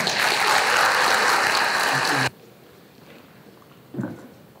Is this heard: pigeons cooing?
no